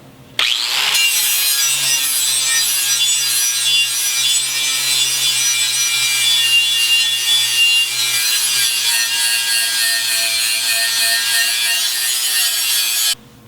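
Harsh, continuous abrasive rasping of metal being worked to a bevel. It is loud and close, and holds steady for about twelve seconds before stopping abruptly.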